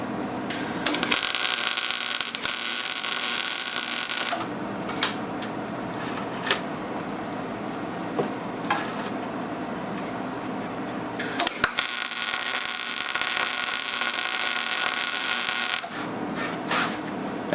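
Spike teeth being welded onto a home-made garden tractor harrow, bursts of harsh crackling arc sizzle lasting several seconds each, separated by quieter shop hum and small clinks, close and loud, no talking.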